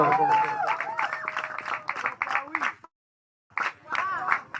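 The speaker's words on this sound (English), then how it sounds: "please let's jam our hands together for them" A crowd claps in a burst of applause mixed with voices and cheering, cuts off briefly, then resumes.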